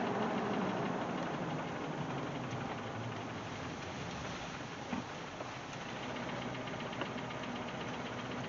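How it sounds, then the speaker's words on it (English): A Jeep Wagoneer idles with a steady, continuous rumble and a loose sunroof cover rattling faintly. The engine noise is even throughout, with no voices. "What you hear rattling is the sunroof cover."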